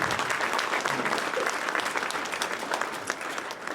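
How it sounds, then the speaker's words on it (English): Sustained audience applause at a chamber of commerce annual dinner honoring the Business of the Year, a dense, steady wash of many hands clapping at moderate volume throughout, with no speech over it. "let's give one more round of applause for our Business of the Year"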